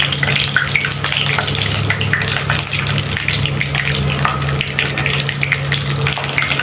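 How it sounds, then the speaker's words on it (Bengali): Whole spices, including cinnamon, cloves, green and black cardamom and bay leaves, fry lightly in a pan for a duck curry, producing a loud, steady, hissing sizzle that continues throughout. "এখন এগুলো আমি হালকা করে একটু ভেজে নিব।"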